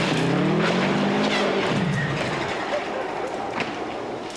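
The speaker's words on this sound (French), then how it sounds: "cette dernière journée a été terrible pour certains concurrents et notamment ici la Subaru de Christopher Nilsson et Per Andersson." A Subaru rally car crashes at Rally Sweden 1999, with a loud engine roar and sliding tyre noise that trail off into lower rumbling and scattered impacts.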